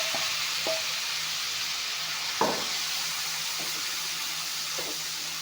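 Boiled beans frying in a pan with ginger, garlic and green chillies, a steady soft sizzle with a few light stirring scrapes and one sharper clink of the spatula, close by and with no voices.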